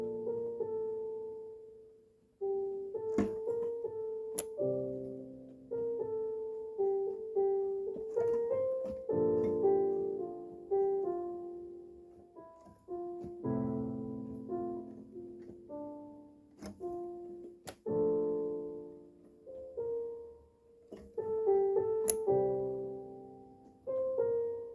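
A piano plays a slow, tentative melody over sustained chords while it is still being composed, with notes fairly soft and close, and pauses and restarts between phrases, alone with no talking.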